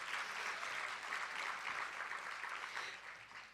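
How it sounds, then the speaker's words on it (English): Audience applause at a Boys and Girls Club Youth of the Year event, a soft, even wash of clapping from a distant crowd that tapers off near the end. "that's worth a round of applause"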